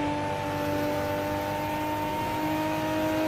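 A Nissan GT-R race car engine in Assetto Corsa screams at high revs, a steady, loud, whining drone held throughout without any voices.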